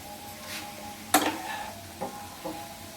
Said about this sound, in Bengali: এবার আমি এটা একটু নেড়ে দেবো। কাঠের খুন্তিটা আমি নিয়ে নিই